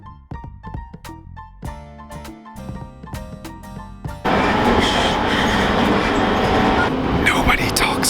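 Broadband rumble of a train ride in Japan heading toward Shinjuku, a steady loud rolling roar with rising noise, under occasional talk.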